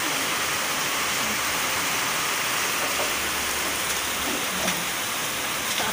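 Floodwater rushing in a steady, loud broadband hiss like heavy rain or a torrent, unbroken throughout, with no voices over it.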